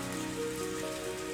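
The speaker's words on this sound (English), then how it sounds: "Yeah, it's raining." Rain falling steadily, a soft, continuous patter on surfaces that stays even and moderately loud for the whole short stretch, with no voices.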